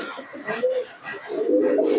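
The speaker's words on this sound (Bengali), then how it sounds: "এই হচ্ছে মাদিন কবুতরটা" A female Rampuri pigeon coos close by in short, low, throaty phrases, with a brief pause midway before a longer coo at the end.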